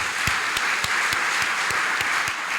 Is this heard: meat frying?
no